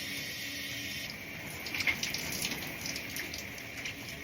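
Water runs steadily from a tap, a constant hiss with faint splashing, as curly hair is rinsed close by.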